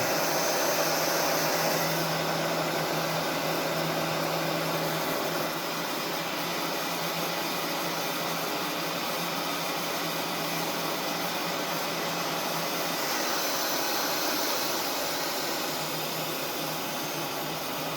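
A heat gun blows hot air onto the rubber carburetor boots of a 1982 Kawasaki KZ750 motorcycle, a loud steady whooshing fan roar that runs unbroken throughout, no talking.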